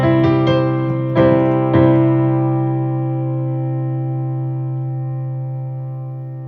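A piano chord from the worship song Holy Forever is struck a few times and then left to ring. It decays slowly and evenly, clear and close, with no voices.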